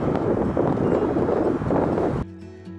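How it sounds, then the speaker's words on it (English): Strong gusty wind buffets the microphone at an outdoor off-camera-flash photo shoot, a loud roaring rumble that cuts off abruptly near the end, leaving a quieter low hum. "Here is a sound clip from how windy it was that day."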